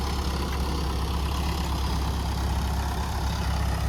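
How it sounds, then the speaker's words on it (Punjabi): A tractor-powered spray pump engine runs in a village field while spraying for gulli danda weed, giving a loud, steady, unbroken drone with no pauses and no talking. "ਆ ਨਜ਼ਾਰਾ ਟਰੈਕਟਰ ਵਾਲੇ ਪੰਪ ਦਾ"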